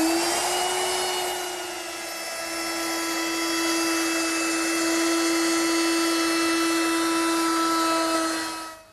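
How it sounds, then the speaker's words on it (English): Router fitted with a 3/8 inch radius rounding-over bit, shaping the top edge of a wooden chair table; a steady, loud high-pitched whine runs throughout with no talking. "Now I'll round over the top edge with a 3/8 inch radius rounding over bit."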